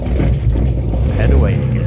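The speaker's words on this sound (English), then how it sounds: "it was time to put the key in the ignition, fire up the engines," Boat engines firing up on Lough Ree, a broad steady low-pitched rumble with wind noise, continuous and fairly loud throughout.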